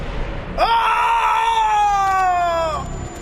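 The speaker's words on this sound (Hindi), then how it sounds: "ध्रुव को वो शक्ति अपने दिल में जाती हुई महसूस हुई और वो दर्द के मारे चीख पड़ा।" A man lets out one long, loud anguished scream of pain, rising sharply, holding for about two seconds, then breaking off.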